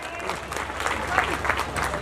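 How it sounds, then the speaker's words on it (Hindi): An audience at a Hindi poetry gathering claps together in a dense, steady burst of applause, loud and close, with a few voices mixed into the clapping. "आगे से पीछे तक एक बार तालियां बजा के बताएं"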